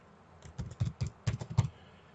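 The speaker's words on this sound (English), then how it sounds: "I'm going to type prime number" Keys clack in two quick, soft bursts on a computer keyboard, close and alone in a quiet room.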